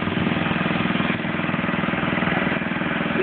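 A tractor engine idles close by outdoors on grass, a steady low rumble with a continuous, even throb running throughout without pauses.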